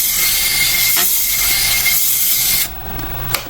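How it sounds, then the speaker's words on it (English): A strip of 120-grit sandpaper rubs against a wooden cattail spinning on a lathe, giving a steady loud rasping hiss with a faint motor tone, then it lifts off and a quieter hum remains. "I'll turn it on, and I'll just give this a little bit of a sanding."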